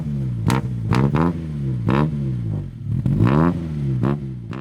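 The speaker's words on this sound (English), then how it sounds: "all those Fiats with a leaky silencer, those sounded like sporty cars" A Fiat 1100 with a leaky silencer revs repeatedly, its engine rising and falling in several sharp, raspy bursts close by, with no talk over it.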